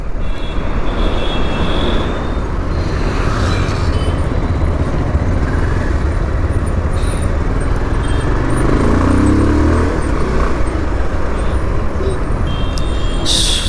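Steady road traffic passes around a rider filming with a GoPro Hero 10, a broad continuous rumble of cars, trucks and buses with a faint air-brake hiss, close and loud throughout with no clear pauses.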